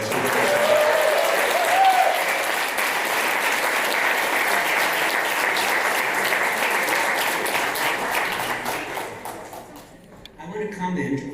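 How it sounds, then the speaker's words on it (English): Sustained applause from an audience at an award dinner for a digital health education summit, loud and steady for about nine seconds before fading, with some crowd chatter mixed in and voices emerging at the end. "Well, a round of applause anyways."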